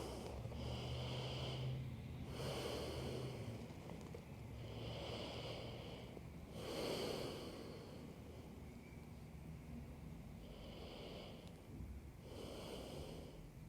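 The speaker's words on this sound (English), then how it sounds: "Just finding those nice breaths." Slow, deep breathing during a pregnancy yoga session, with several long audible inhales and exhales in an even rhythm, close and soft, with no talk.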